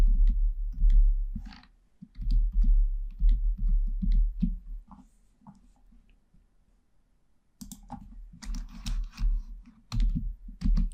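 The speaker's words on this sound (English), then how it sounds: "let's type in the word vintages" Fingers typing a single word on a computer keyboard in design software, a rapid run of close, crisp key clicks, a short pause with faint taps, then another quick burst of keystrokes.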